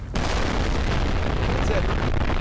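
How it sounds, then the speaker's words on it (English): Demon explosion sounds in the horror video game Close Your Eyes: a sudden loud blast followed by a dense, rumbling, crackling roar that carries on steadily to the end. "Demon explosion sounds."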